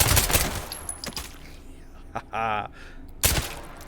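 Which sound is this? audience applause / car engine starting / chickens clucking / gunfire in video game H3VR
gunfire in video game H3VR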